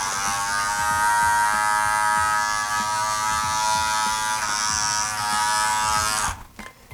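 An Andis Fade Master hair clipper runs continuously with a loud, harsh motor buzz rich in overtones, close and steady, before it is switched off at the end.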